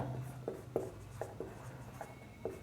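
Pen writing on paper while working a school math worksheet problem, a series of short scratchy strokes at a steady, unhurried pace, close and quiet.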